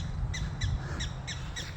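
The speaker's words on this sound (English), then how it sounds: "We got gophers chirping" Gophers in a natural grassy area of a disc golf course in Fort Collins, Colorado, give five short, high, squeaky chirps at a steady pace over faint outdoor background noise.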